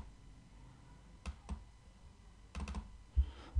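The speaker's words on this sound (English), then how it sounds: "I'm just gonna double click" Close, crisp clicks at a desk computer while working in Excel: two isolated clicks, then a quick cluster of clicks and a louder final click, over a low hum.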